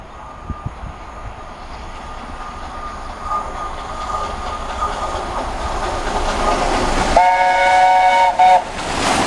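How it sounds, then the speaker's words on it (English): A steam locomotive train passes at Kings Sutton, a rising rumble of wheels and carriages building over several seconds, with a tonal whistle sounding near the end. "Hopefully the steamer should be next then."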